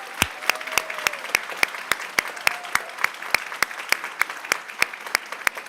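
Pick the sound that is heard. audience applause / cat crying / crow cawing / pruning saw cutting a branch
audience applause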